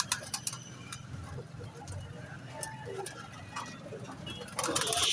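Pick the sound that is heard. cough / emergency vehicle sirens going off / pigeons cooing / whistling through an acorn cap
pigeons cooing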